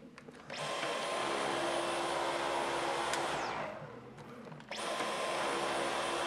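Dyson cordless vacuum cleaner motor whirring loudly and steadily, close by, briefly dropping in pitch and level for about half a second before surging back to full power.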